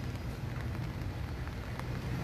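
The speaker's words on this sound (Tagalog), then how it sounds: "patuloy na umuulan" Steady rain falls over the mountain area at the Luzon Datum site, a continuous even hiss of drops spread across the whole stretch with no talking over it.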